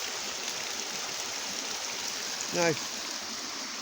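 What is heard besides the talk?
brook water flowing out of a tunnel and pipe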